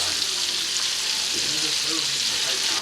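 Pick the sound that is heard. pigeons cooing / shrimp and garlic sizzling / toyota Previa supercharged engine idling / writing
shrimp and garlic sizzling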